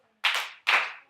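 Two sharp hand claps in a classroom, spaced about half a second apart, each loud and crisp with a short ring-off, nothing else around them.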